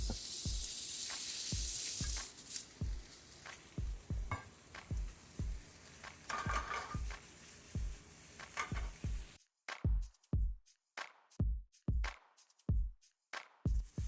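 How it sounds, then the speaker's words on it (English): Bacon sizzles in a pan as its fat renders, a steady hiss under regular knocking and stirring strokes that carry on alone after the frying noise cuts out; no voices. "We're gonna throw some bacon, render out some of this fat."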